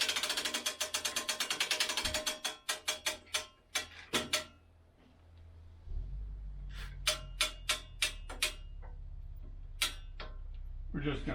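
A ratchet wrench clicks rapidly while bolts are tightened on a Woodland Mills HM122 sawmill head, fast close ratcheting bursts, then slower separate clicks over a low hum, with some talking.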